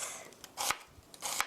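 A knife slicing vegetables into thin 0.2 cm pieces, two quick bursts of cutting strokes, close and fairly quiet, with faint thuds on the board.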